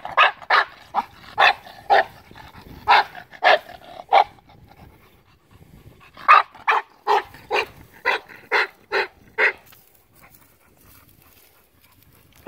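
An Olde English Bulldog barks in two runs of steady, evenly spaced deep barks, about eight in the first burst and nine in the second after a short pause, loud and close with no talk.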